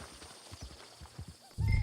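Horse in the Red Dead Redemption 2 video game on PS4, soft clip-clop hoof steps through the first part, then a louder snort or low whinny close by at the end, with no talk over it.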